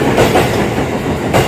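A commuter express train on the Tokaido line rushes past close by, a loud steady rumble with clickety-clack wheel beats on rail joints and no voices.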